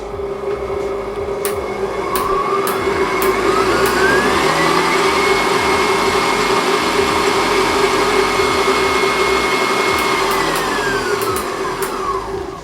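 A Cheflee 6-quart household stand mixer runs steadily with a loud, continuous motor whine and a rising pitch as its speed shifts, close and alone without talk.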